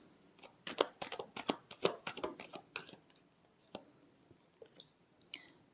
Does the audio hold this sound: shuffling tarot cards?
yes